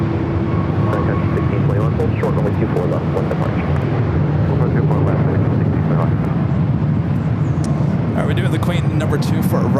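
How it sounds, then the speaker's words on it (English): A Sun Country Boeing 737-800 arriving from Minneapolis at LAX, its engines a loud, steady broadband roar with low rumble filling the whole stretch, mixed with busy airport background noise. "Sun Country 737-800 coming in from Minneapolis"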